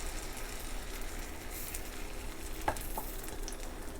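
Crêpe batter frying in a hot pan gives a steady, close sizzle with a soft hiss that runs the whole time, plus one brief sharper crackle partway through.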